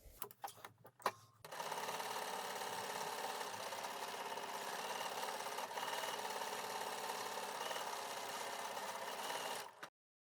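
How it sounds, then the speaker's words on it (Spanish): A sewing machine stitching fabric for a zero-waste sewing project. A few sharp clicks and handling knocks come first, then a steady, fast, whirring run of the machine that stops abruptly near the end. "Y ahora voy a coser esto."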